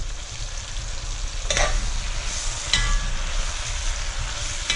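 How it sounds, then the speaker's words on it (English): Onions sauté in a Dutch oven while beef bourguignon is being made outdoors, giving a steady close sizzle with a couple of sharp stirring scrapes, under low wind rumble and with no talk. "we're just going to saute those down till they're all nice and caramelized"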